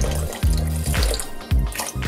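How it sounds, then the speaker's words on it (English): Water from a tap poured into a cooking pan while making vegan ramen, a steady close splashing flow that breaks off and restarts a couple of times. "Add some water to the pan,"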